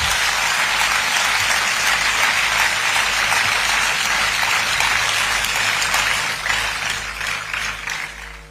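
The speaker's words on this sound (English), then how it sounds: "a big round of applause for the awardees and their parents." Loud, sustained applause from a large audience at the AIIMS Mangalagiri convocation ceremony for the awardees and their parents, a thick continuous roar of clapping that eases off slightly near the end.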